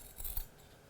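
Scissors trimming the seam allowance along a curve in thick fabric: a couple of quick, soft snips close by, then quiet.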